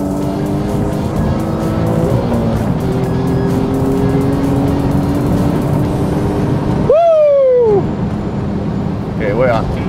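Alfa Romeo Giulia engine revving hard as it accelerates from 100 to 200 km/h on a dyno, a loud sustained rising roar with gear-shift drops and steady mechanical whine, voices faintly audible underneath.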